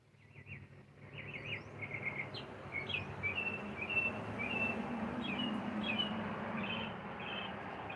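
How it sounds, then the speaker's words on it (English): A small bird chirps outdoors near a porch, repeated quick high tweets scattered over a steady low background hum, moderately faint and a little distant. "Chirpy bird."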